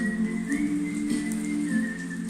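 Heavy rain pours outside in a steady, dense hiss that runs unbroken throughout, with a faint sustained whistle-like tone and low hum layered over it.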